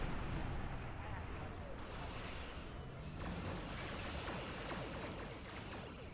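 A starship firing torpedoes in the space combat of Star Trek Online, a dense continuous barrage of booming weapon fire and explosions rumbling steadily throughout, with voices mixed underneath.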